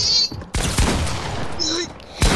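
Gunshots in the video game Fortnite crack out in a few sharp bursts over about two seconds, with game sound effects between them and a faint voice underneath.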